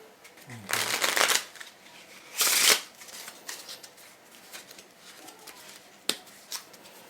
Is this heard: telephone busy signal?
no